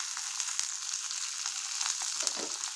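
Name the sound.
green chilies and cumin frying in oil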